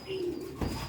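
A Batera breed pigeon gives a single soft, low coo, quiet and close, with nothing else around it.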